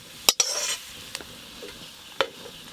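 Grated coconut frying in foaming mustard oil gives a faint, quiet sizzle, broken by a few sharp utensil clinks near the start and one more toward the end.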